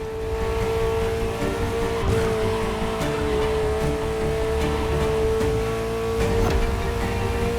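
A Ferrari sports car engine in the racing game The Crew Motorfest, holding a steady loud drone with a strong sustained tone, heard up close and continuous with no talking.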